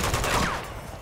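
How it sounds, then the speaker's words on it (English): Shotgun fire in the action game Uncharted 2: Among Thieves, a loud burst of gunfire up front that tails off into a lingering echo, with no talk over it. "I hear a shotgun."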